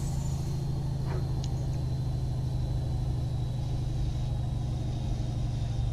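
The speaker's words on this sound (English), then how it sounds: "Yeah, the truck does sound good." A steady, droning turbocharged truck engine in American Truck Simulator rumbles continuously at a constant idle-like pitch, with a faint high whine riding on top throughout.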